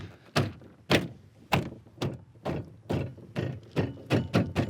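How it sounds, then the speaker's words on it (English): A series of about nine sharp plastic snaps and thumps as Subaru door panel clips pop into place, irregularly spaced, close up, with no speech. "just pop all your clips in"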